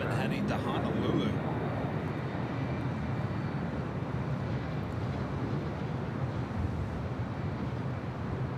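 Broad roaring jet noise from a converted Boeing 767 cargo plane taking off on runway 25 left at LAX, steady and powerful, heard at a distance with wind buffeting the microphone and a voice talking over it.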